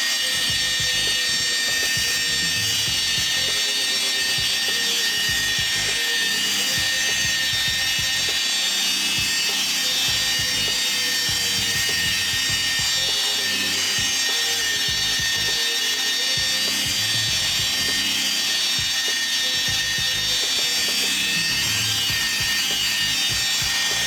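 Steady hand polishing of car paint on a Ford BOSS XC being colour-sanded and buffed, a continuous close rubbing and whirring drone with a bright hiss, no talk.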